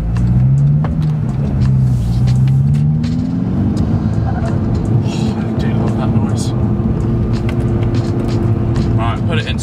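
Volkswagen Scirocco R engine under load in second gear in sport mode, a loud continuous drone with rising then steady revs and tyre and road roar, recorded from inside the car on a driving stage.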